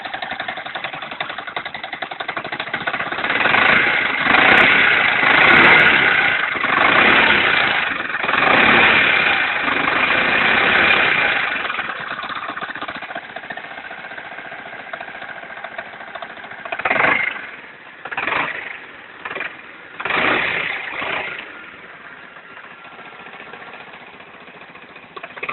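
A car engine, after a clutch repair, runs steadily at idle with a rough, uneven note, then settles into a lower hum broken by a few brief surges; no voices.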